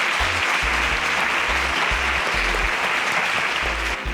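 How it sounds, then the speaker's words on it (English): Loud, dense audience applause at a live competition show, sustained and even from start to end with a thumping low rhythm underneath. "A round of applause."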